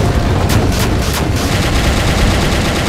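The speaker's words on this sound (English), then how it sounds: "This is basically a rapid nuke launch. Rocket launcher." Rapid bursts of rocket launcher fire in the VietDoom mod for Doom, a few loud explosive blasts in quick succession over a constant dense rumble, with no speech.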